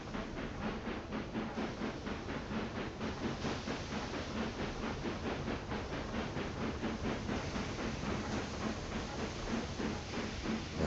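A train in the Railway Empire 2 game rolls steadily along with a rhythmic clickety-clack and a hissing wash of steam, a continuous moderate rumble with no talking.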